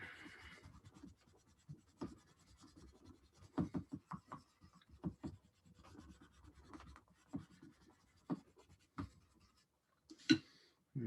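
A spoon rubs over paper to transfer an image, producing quiet, irregular scratchy strokes in short bursts with pauses, close and soft, with one louder scrape near the end.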